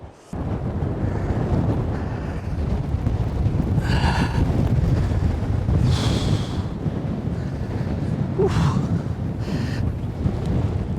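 Strong, gusty outdoor wind roars across the microphone while a DJI drone is being flown, a loud continuous rush that swells in stronger gusts and leaves no room for other sounds.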